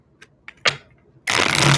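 A few light taps and riffles of tarot cards, then a loud, dense burst of shuffling close up.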